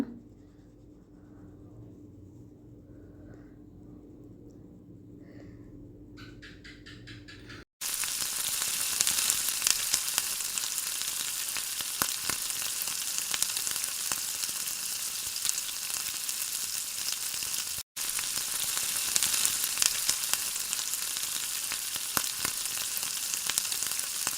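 Bay leaf and whole garam masala, including cinnamon, cardamom and cloves, hit hot oil for a beef curry, bursting into a loud, steady, close crackling sizzle after a quieter opening stretch.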